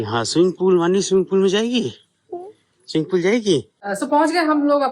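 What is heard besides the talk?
No everyday noise stands out behind the speech.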